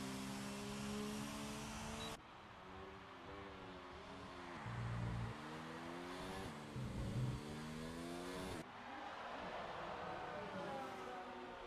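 Race cars leaving the pits in a sim racing game at the Brazilian Grand Prix, engines revving and rising in pitch as several cars pass one after another, moderately loud and without talk.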